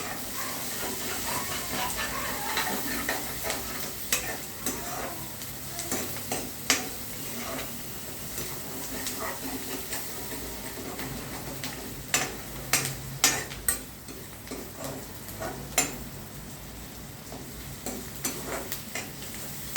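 Onions with turmeric and salt are stirred in a frying pan, a quiet steady sizzle broken by sharp scraping and clinking of the spoon against the pan, growing more frequent toward the end.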